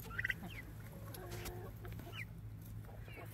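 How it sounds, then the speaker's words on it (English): Small frizzle chickens, including young chicks, cluck softly near a backyard coop, with short chirps and rustling over a steady low outdoor hum. "This is one of the chicks that we had, this little frizzle."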